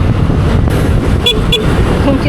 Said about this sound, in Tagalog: Ang cute ng busina eh.